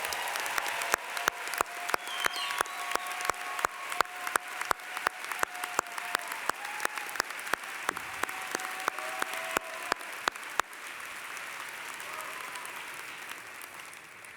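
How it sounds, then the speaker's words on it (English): Audience applause at a university commencement ceremony, a sustained wash of clapping from a large crowd, punctuated by regular sharp clicks and a faint tone, fading to quieter room ambience near the end. "So please give them a giant round of applause."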